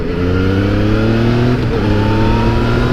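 A 2017 Yamaha FZ-09 motorcycle engine revs close up, its strong harmonic whine rising steadily and continuously as the throttle opens, loud and alone with no talk.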